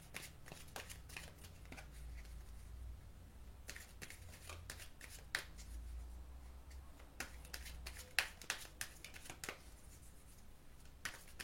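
A deck of cards is shuffled up close before a card is drawn, with quick riffling bursts and soft handling clicks at moderate to faint level, and no talking.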